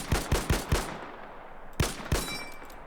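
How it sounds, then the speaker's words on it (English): Gunfire in the World War II game Arma 3 Spearhead 1944: four sharp, evenly spaced rifle shots ring out close and loud, a pause, then two more reports, each trailing a reverberant tail. "We can fire our gun"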